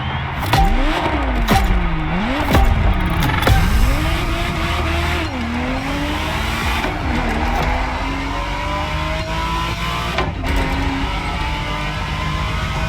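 A Ferrari Testarossa races in The Crew Motorfest, its engine revving up and down through repeated gear shifts, with tyre squeal and a loud, continuous close-up roar.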